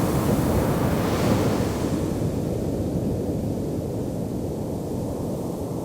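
Ocean surf rolls in a steady, loud wash of breaking waves, with wind hissing over it and no pauses throughout.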